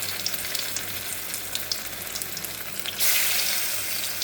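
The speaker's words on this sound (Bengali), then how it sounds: "এখন ছোট ছোট করে হালকা আঁচে এটাকে ভাজতে হবে।" Gandhapata leaf fritters fry in oil over low heat, a close, steady crackling sizzle that swells louder and brighter near the end, with no voices.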